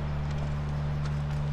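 Horse hooves clip-clop at a steady walking pace in The Last of Us video game, faint soft knocks riding over a loud constant low hum with no talking.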